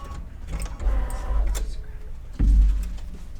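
An embroidery machine stitches a Kimberbell Spring is in the Garden flag design in purple thread, giving a close, busy mechanical whir with rapid rhythmic needle pulses and a heavier thump near the end.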